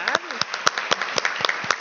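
An audience applauds with a scattered rhythm of sharp, fairly close claps and light crowd murmur, while a voice speaks briefly at the start.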